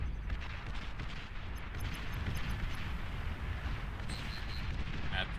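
Steady distant rumble of massed artillery fire in the RTS game Beyond All Reason, a continuous low roar of overlapping shell blasts with faint higher pings and clicks scattered through it.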